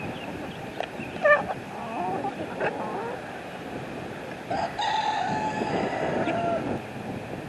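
Aggressive backyard roosters crowing outdoors, with a couple of loud cock-a-doodle-doo calls at moderate distance, some clucking and a faint rumble like a passing train in the background.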